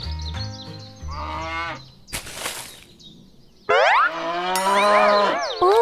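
Cattle mooing near hay, several long bellowing calls one after another, loud and close, with bright warbling tones and a brief burst of noise between calls, and no talk.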